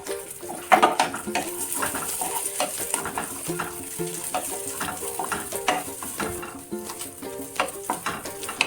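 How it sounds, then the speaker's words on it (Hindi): Raisins roast in ghee in a pan, a close, steady sizzle with a spoon stirring and scraping against the metal throughout. "किशमिश को हमें थोड़ा सा सेक लेना है 1 से 2 मिनट"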